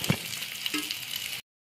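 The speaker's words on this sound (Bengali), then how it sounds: "এই মোমো ভাজাটা কিন্তু হাই ফ্লেমে করলে চলবে না, জোর আঁচেতেই।" Chili garlic momos fry in oil on a low flame with an even, moderate sizzle for over a second, then a brief silence before the frying returns.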